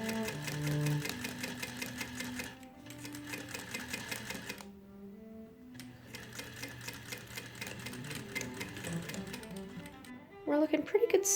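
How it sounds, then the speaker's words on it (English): Sewing machine stitching a channel into the hem of a plaid bedsheet Regency dress, a quiet rapid mechanical whir running in bursts with short pauses between runs. "I also machine sewed a channel into each of the hems to run a ribbon through to keep it in place."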